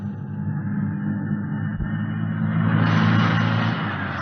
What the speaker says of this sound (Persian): به چه شانسی، این یه کامیون داره میاد.